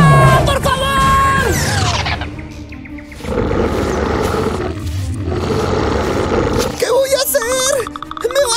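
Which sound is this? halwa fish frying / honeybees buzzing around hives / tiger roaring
tiger roaring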